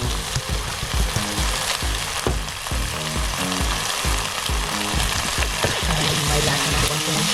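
Onions fry in a pan for pancit canton with chicken, producing a strong, close, crackling sizzle that pops irregularly throughout, with low thumps of stirring underneath and no talk.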